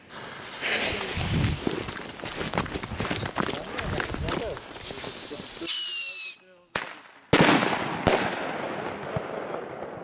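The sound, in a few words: C4 firecracker and single firecracker exploding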